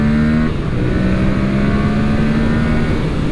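A Yamaha MT-07 twin-cylinder engine with a 270-degree crank drones steadily on a cold track, close and loud with a constant, even pulse.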